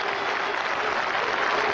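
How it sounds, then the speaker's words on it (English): A cricket crowd and the West Indies team applauding Sherwin Campbell's century against Zimbabwe, dense continuous clapping at even loudness throughout. "Jimmy Adams and the whole of the West Indian team stand to applaud him"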